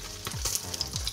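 A Thai omelet fries in hot oil in a pan, giving a steady close sizzle with light scraping and bubbling throughout.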